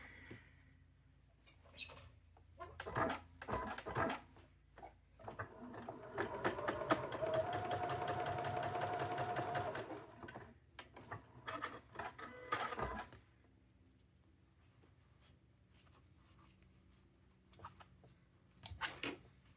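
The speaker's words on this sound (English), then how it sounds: "So we're going to sew these two together." A sewing machine stitches two fabric pieces together for a farm-chicken quilt block, running in a rapid steady whir for a few seconds amid short starts, clicks and handling noises, fairly close and without talk.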